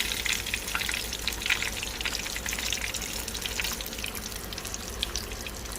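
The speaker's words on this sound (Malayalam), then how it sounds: "അപ്പോൾ നമ്മുടെ മീൻ ഇവിടെ ഫ്രൈ ആയി കഴിഞ്ഞ് ഇനി നമുക്ക് അതെടുത്ത് പ്ലേറ്റിലോട്ട് ഇടാം" Fish fries steadily in a pan for a Kerala fish molee, a continuous dense sizzle with crackling spatter running loud and close for the whole stretch, no voices over it.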